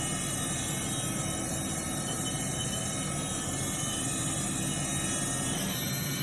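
A 2011 Haas VF-3SSYT CNC vertical machining center spindle spinning down in speed gives a steady, dense whirring hum that stays even and loud throughout, with no voices.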